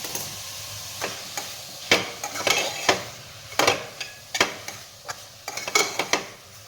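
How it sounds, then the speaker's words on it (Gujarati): Green chillies and grated ginger being stirred in hot oil in a pan, with repeated scraping, clinking strokes of a spoon against the pan over a faint sizzle, close and fairly loud, with no talking. "બસ હવે આને મિક્સ કરવાનું"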